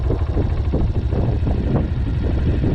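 A 2020 Honda CRF125F dirt bike engine runs steadily close by as the clutch is eased out, giving a continuous low mechanical drone with rough pulsing and no voices.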